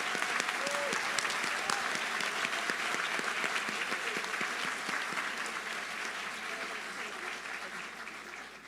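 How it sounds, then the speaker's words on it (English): A sustained round of applause from an audience at a university nursing school graduation ceremony honoring doctoral nursing students, dense and steady clapping filling the room, loud and continuous with no speech over it. "a round of applause for our DNP students."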